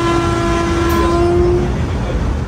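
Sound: Vande Bharat trains passing each other

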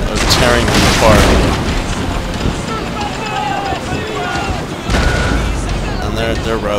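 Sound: cannon fire in Empire: Total War video game

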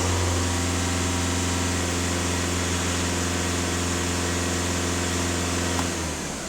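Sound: VW Caddy 1.6 TDI engine running

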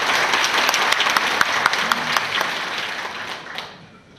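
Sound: audience applause

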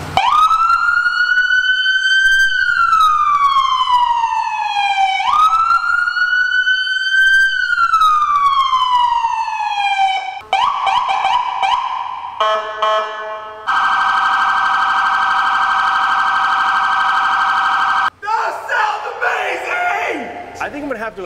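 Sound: police sirens on a custom Jeep Gladiator police car

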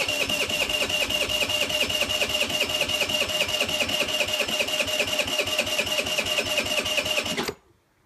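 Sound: Direct Bikes 50cc retro moped engine starting

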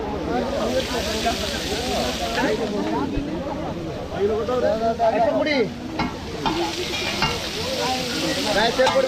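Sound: crabs frying in a pan

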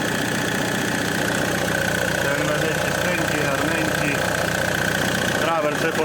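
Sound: diesel engine running

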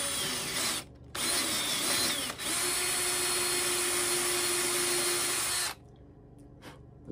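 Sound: power drill boring into a walking stick

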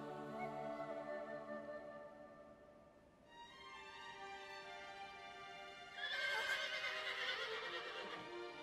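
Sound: horse neighing in video game Shadow of the Colossus

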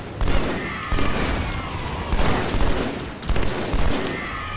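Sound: sniper rifle fire in the video game Halo 2: Anniversary

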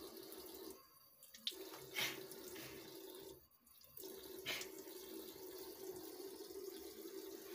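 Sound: running tap water while washing nose during wudu ablution

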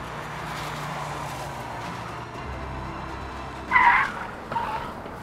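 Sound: car braking hard to a stop in a tyre test

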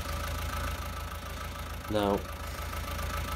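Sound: tractor engine starting and idling in Farming Simulator 19 video game

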